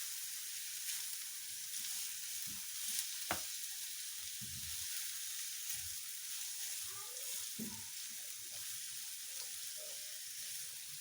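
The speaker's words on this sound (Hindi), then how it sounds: "लो फ्लेम पे ही हम ये सारी वेजिटेबल को ऑयल के साथ थोड़ा फ्राई करेंगे।" Chopped vegetables fry gently in oil over a low flame for a vegetable omelette, giving a soft, steady close sizzle broken by a few faint stirring knocks, with no voices.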